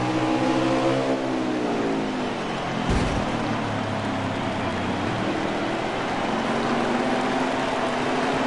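Racing truck engines roar continuously at Martinsville in an LF Truck Series race, loud and sustained, with pitch sweeping as trucks pass and a sharp burst near the middle.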